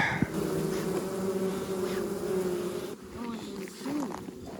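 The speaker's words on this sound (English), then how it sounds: "We're gonna go ahead and smoke this hive a little bit." Honey bees buzz steadily around a homestead hive as it is smoked to calm them, a dense close swarm drone filling the whole stretch alongside some faint low voice-like sound.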